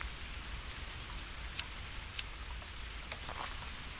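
Steady rain hiss in the Phasmophobia video game, a continuous wash of falling rain with a couple of sharp drop-like clicks, no talk over it.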